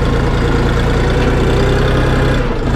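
Tractor engine idling low and steady as it is set into second gear to move off while plowing, a close, continuous rumble with no talking.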